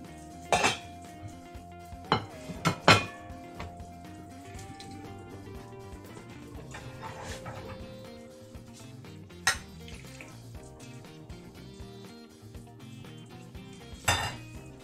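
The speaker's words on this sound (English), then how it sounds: "Use a lid to strain our potatoes." A pot lid held against a pot to strain cooked potatoes, giving scattered metallic clinks and clanks with a few sharp knocks over a soft background of trickling liquid, close up, with no talk.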